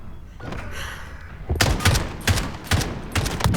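Gunfire in Call of Duty Modern Warfare on the Docks map, quiet ambience giving way to a loud burst of rapid close shots in uneven bursts.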